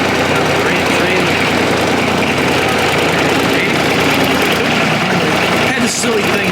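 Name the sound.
John Deere 2305 tractor engine running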